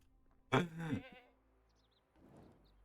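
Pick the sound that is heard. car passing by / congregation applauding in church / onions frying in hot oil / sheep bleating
sheep bleating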